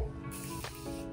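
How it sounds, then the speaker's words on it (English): A Morphe Continuous Setting Spray bottle sprays a fine mist in two short hissing bursts close by, with no talking. "Taking my Morphe Continuous Setting Spray."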